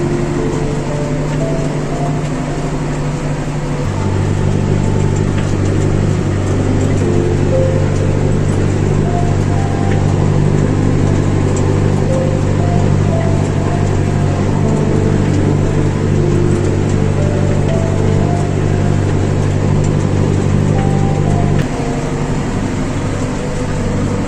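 A Hattat T4090 tractor engine revs steadily under load while climbing uphill sowing chickpeas, a loud, continuous low drone that swells slightly after the first few seconds and holds before easing near the end.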